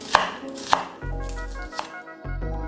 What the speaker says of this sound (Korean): 통마늘 5개는 살짝 굵게 편썰고 양파 4분의 1개 굵게 채 썰었다